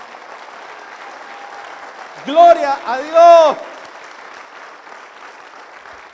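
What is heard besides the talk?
church congregation applauding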